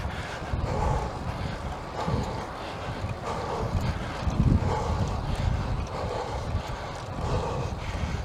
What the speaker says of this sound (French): Le vent de face.